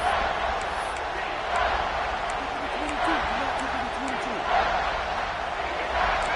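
A football stadium crowd at a Texas A&M game roars steadily through a big third-down play, a broad sustained wash of cheering with swells, while an announcer's voice talks over it.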